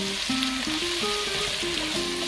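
Onion and bay leaf hit frying garlic for a king prawn bhuna, giving a loud, steady close sizzle with a faint tonal hum underneath and no speech.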